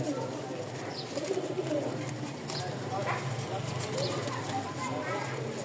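Pigeons cooing and fluttering at a pigeon sale, soft repeated coos and bird calls mixed into steady crowd chatter, with someone talking over them throughout.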